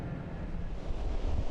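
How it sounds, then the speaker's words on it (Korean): Heavy, high sea surf pounding continuously off a Korean island near Uido in the Dadohae archipelago, with steady wind buffeting the microphone and a dense, low rumble throughout, no voices. "파도는 좀처럼 잦아들 기미가 없다."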